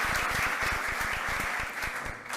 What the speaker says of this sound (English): Well, first a big applause